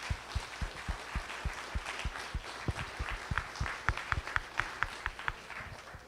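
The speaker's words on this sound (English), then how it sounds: "let's start by thanking all our panelists with a wonderful round of applause" Audience applause for panelists at a community conversation on school funding, with individual claps standing out as distinct sharp hits over softer background clapping, building slightly before tapering.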